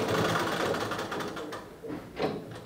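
Sewing machine stitching a blouse sleeve, running in a steady continuous whir with slight pauses and surges in pace throughout, close and fairly loud with no talking.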